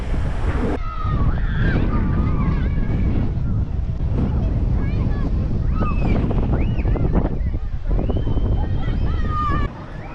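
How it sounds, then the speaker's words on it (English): Strong wind roars and buffets the microphone throughout at an Australian coastal landmark, with background voices and chatter mixed into the steady gusting noise. "Exceptionally windy today."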